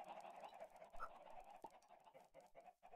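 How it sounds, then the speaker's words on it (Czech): Chickens cluck in Minecraft with steady, close, moderately loud game bird calls repeating through the whole moment, one brief higher squawk standing out near the middle, and no voice over them. "tady je zase slepic"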